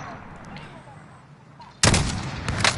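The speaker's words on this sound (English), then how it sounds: "I sniped him" A sniper rifle shot in a video game, one sudden loud blast with a rolling tail after a stretch of quieter background noise.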